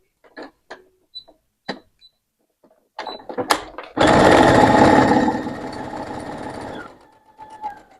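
A sewing machine runs a straight stitch of length 2.5 along the presser-foot edge of fabric for a Santa Claus sewing project, a close, loud, rapid whirring burst lasting about three seconds after a few scattered clicks of handling.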